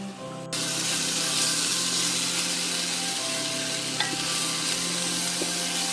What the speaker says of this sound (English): Let it saute beautifully.